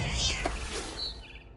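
A barn swallow chirps in What Remains of Edith Finch, short high tweets over a dense game ambience of wind and background noise.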